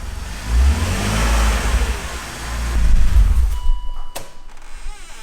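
A car with a Magnaflow catback exhaust revs loudly with a deep, rumbling exhaust note, rising twice in surges before dropping away, heard up close with no talking.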